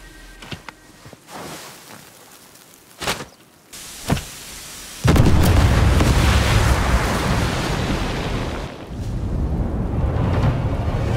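A large explosion destroys the Kraken prototype in Sniper Elite 5, a sudden loud blast at mid-clip rolling into a long, dense rumble after a few sharper bangs and thuds earlier on.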